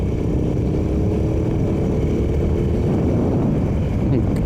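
A revived 150cc scooter engine running under way while riding, a loud, steady low engine drone mixed with heavy wind rush across the microphone and no break in the noise.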